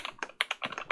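Keys clack on a custom KBD67 v3 mechanical keyboard, about half a dozen quick, close, crisp strokes in a single second of fast typing.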